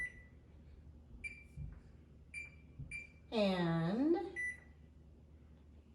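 Short electronic beeps from a kitchen timer being set while a turkey roasts, several quiet chirps spaced apart, then a brief louder tonal beep, with a voice speaking softly.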